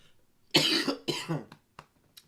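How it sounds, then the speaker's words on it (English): A person who is still a little sick coughs two hard, harsh coughs close to the microphone, followed by a few short throat-clearing sounds and small clicks in a quiet room. "Sorry for coughing, guys."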